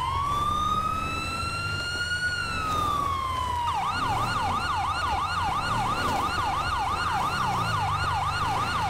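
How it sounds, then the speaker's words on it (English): A police siren in Grand Theft Auto V, first a long rising and falling wail, then a fast repeating yelp pattern, loud and continuous over low engine rumble. "It's a wheeling siren."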